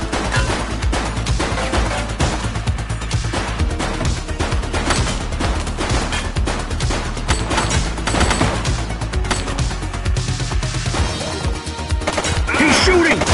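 Sustained gunfire erupts in The Precinct as a suspect opens fire, dense rapid shots hammering continuously and loud, layered over a busy game soundscape.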